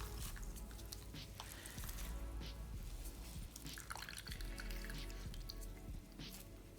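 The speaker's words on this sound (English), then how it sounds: "And I just keep wringing it out until no more water drips out." Water dripping and trickling from sphagnum-style moss wrung out by hand while air layering a Philodendron, a steady close patter of drops with no talk over it.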